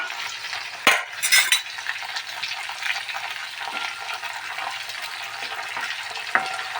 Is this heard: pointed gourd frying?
yes